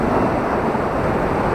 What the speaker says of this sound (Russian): Волна идет, и вода очень теплая.